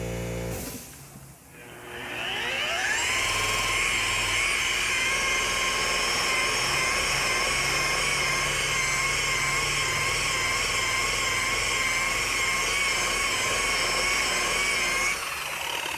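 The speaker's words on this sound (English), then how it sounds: "you don't want to catch this edge with the inward spin of the wool pad" A rotary polisher with a wool pad buffs the painted side of a converted shuttle bus, spinning up with a rising whine and then holding a loud, steady high-pitched drone for about thirteen seconds before winding down.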